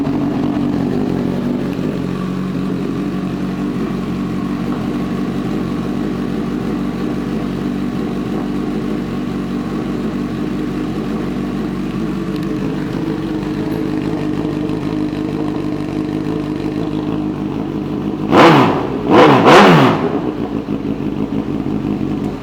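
A 2015 Honda CB1000R motorcycle engine running steadily at idle nearby, a continuous low rumble that holds for most of the stretch before two sharp throttle revs rise and fall near the end.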